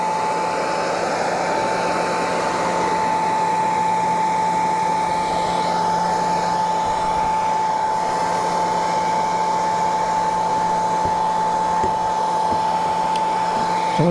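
Heat gun blowing steadily to melt wax into the seams of Burley canvas saddle bags, a loud, even, continuous rushing hiss with a faint tonal whine, close and unbroken with no talk.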